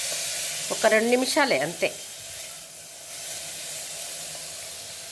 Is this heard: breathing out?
no